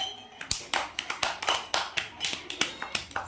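Children in a classroom clap in a quick series of sharp, close hand claps with short gaps between them. Some faint voices sit underneath.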